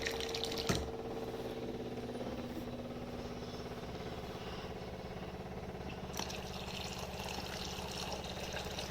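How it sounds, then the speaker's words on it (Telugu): Water pours steadily from a home water purifier in a kitchen, a continuous moderate trickle and splash that runs without a break for the whole stretch. "ఇక్కడ మా వాటర్ ప్యూరిఫైర్ చూపిస్తున్నాను నేను మీకు"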